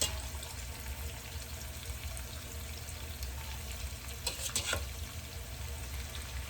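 Shrimp frying in plenty of olive oil in a pan, a continuous close sizzle with a crackling burst partway through, no one talking.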